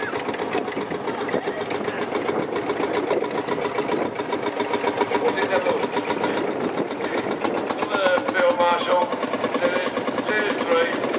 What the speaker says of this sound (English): 1946 this one. Single cylinder engine as I say for that.